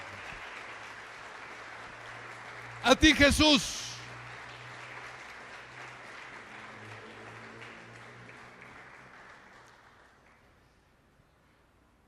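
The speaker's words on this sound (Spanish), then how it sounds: "¿No crees que Jesús merece un fuerte aplauso?" Church congregation applauding during a Sunday service, a broad wash of clapping that swells and slowly fades over several seconds, with a brief loud burst of shouting voices near the start.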